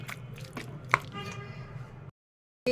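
Cooked broccoli being mashed for broccoli bhorta makes soft, wet squishing and pressing sounds with one sharper tap, followed by a brief silence and then another burst of noise.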